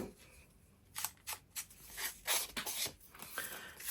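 Scissors snip through paper while cutting a straight edge for a mailer card with pockets. There is a quick series of sharp, close cuts with no talking.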